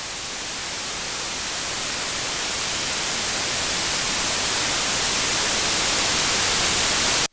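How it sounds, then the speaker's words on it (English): Steady, broadband hiss of white noise running continuously, slowly rising a little in level, then cutting off abruptly at the end. "Let's see what happens with our white noise sample plugged in with these settings."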